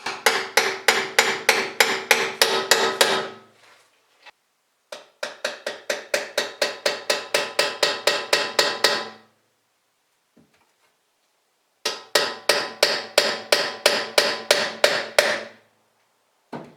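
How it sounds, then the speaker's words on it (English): Hammer tapping new bearing races into a Dana 35 axle, three bursts of rapid, evenly spaced metallic strikes, loud and close, each burst a dozen or more blows separated by short silences. "Tap the new bearing races in."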